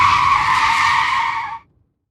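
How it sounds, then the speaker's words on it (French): A Mini braking hard, tires screeching in one loud, sustained squeal for about a second and a half before cutting off sharply into silence. "Sherlock pila et les pneus de la Mini appelèrent au secours"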